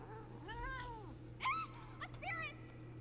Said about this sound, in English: A spirit! It's Phoebe, a cat